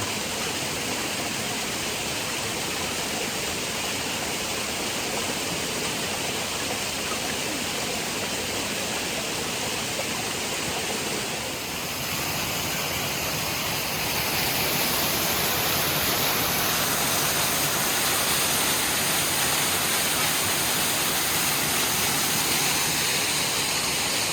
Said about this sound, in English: It's water from mountain.